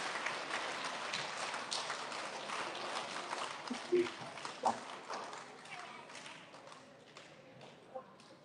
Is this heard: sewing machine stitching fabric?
no